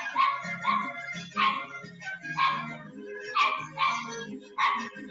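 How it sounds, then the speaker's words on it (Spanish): A small dog barks repeatedly in a bright, yappy rhythm at moderate distance, with whimper-like yips mixed in and no clear talk over it. "¡Hace bulla tu perrito!"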